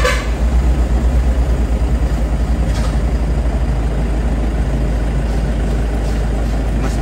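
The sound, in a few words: Toyota Hiace van engine starting and idling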